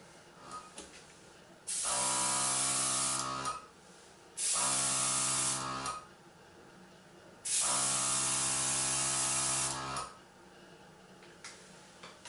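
Three long bursts of hissing spray paint from a can inside a makeshift cardboard box spray booth, each lasting a couple of seconds, separated by short quiet pauses.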